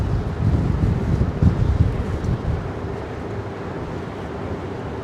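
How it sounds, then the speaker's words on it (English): Strong wind buffeting across the Brooklyn Bridge in New York City, a loud, steady low roar of gusts on the microphone that eases slightly toward the end. "The wind is incredible today."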